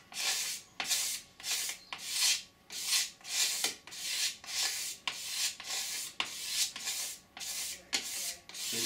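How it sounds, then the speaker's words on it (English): A hand scraper rasps across the flat surface of a 3D printed ABS part in repeated strokes, about two per second, each a close, bright scraping rub taking off thin shavings, with no voices. "I've actually finished parts just using scraping, the sort of scraping technique"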